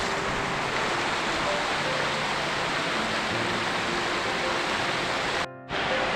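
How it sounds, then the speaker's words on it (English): Mare's Tail, a large waterfall in the UK, rushes in a dense, steady roar of falling water that stays constant throughout, with a brief dropout near the end. "But the destination is Mare's Tail, which is a very impressive waterfall."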